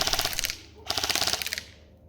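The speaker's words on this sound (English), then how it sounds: "It's only a very short burst before it's misfeeding and you're going to wind it up again." An Echo1 ER25K airsoft DMR fires two short full-auto bursts of rapid, evenly spaced mechanical clicks, the second cutting off as the gun misfeeds, heard close and clear.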